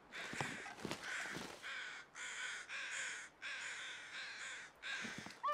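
Crows cawing in the snowy wilderness survival game The Long Dark: a string of about seven harsh, raspy caws, some doubled, fairly close and moderately loud, with no talking.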